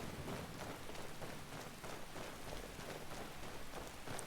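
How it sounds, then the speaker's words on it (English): Steady rain pattering down over a Skyrim landscape, a dense, even hiss of drops holding at one level throughout with no break, no voices and no other sounds on top. "Skyrim weather at its finest. Yeah, a bit of rain is actually kind of nice."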